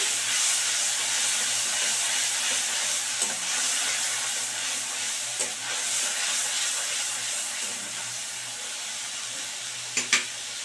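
Ginger and green chillies frying in a pan, a steady broad sizzle and hiss throughout with occasional soft scraping stirs and a couple of sharp clinks near the end. There is no talk.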